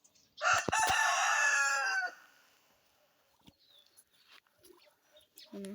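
A rooster crows once, loud and close, a long harmonic call that fades out, followed by quiet farmyard rustles and faint clucks.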